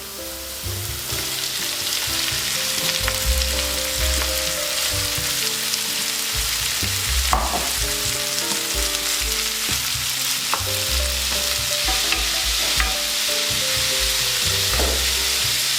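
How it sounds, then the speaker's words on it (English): Ground beef frying steadily in a pan, a continuous loud sizzle with occasional clinks of stirring throughout, no voices. "Now it's time to add our ground beef."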